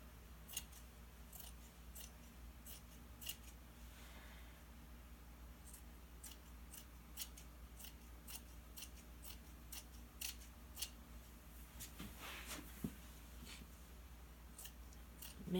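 Scissors snip through excess fleece fabric trimmed from a blanket, a quiet, steady series of short crisp cuts repeating close by in a still room.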